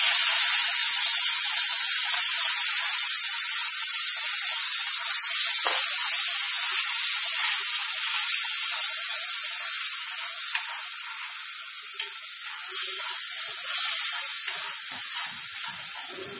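Onion and tomato paste sizzles steadily in a hot pan, a bright continuous hiss close by that holds for the whole stretch, with a few small pops and spatters toward the end.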